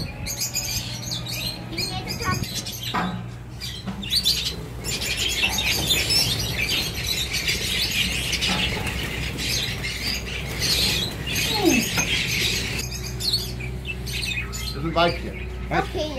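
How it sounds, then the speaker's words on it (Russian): Many parrots squawk and chirp at once in a barn-like room, a loud, dense and continuous chorus of sharp calls with occasional wing flutters, and a voice speaks briefly beneath it. "Очень много попугаев здесь у него."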